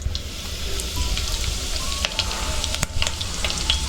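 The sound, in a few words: curry leaves sizzling in hot oil with mustard seeds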